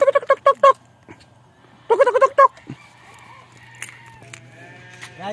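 Two short bursts of quavering bleats from goats close by on a farm in Panglao, Philippines, separated by a pause, followed by quieter shuffling and faint background noise.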